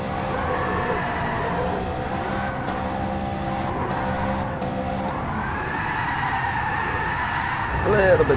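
Tyres squeal continuously as a car drifts around Suzuka East in Gran Turismo Sport, the steady high screech layered over engine drone and shifting in pitch, with a brief louder burst near the end.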